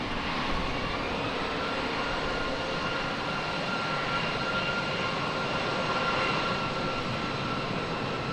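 A jet airliner's engines roar steadily and loudly at San Diego airport, a continuous broadband rumble and whine that fills the whole stretch with no talk.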